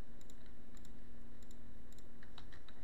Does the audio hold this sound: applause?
no